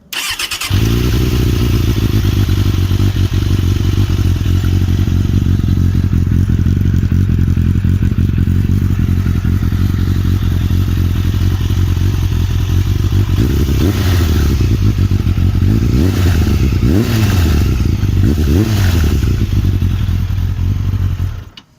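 A 2001 Suzuki Bandit 600 motorcycle with a Scorpion exhaust and its baffle removed starts up and idles loud and close with a deep, throbbing rumble, then blips the throttle several times in quick revs before shutting off.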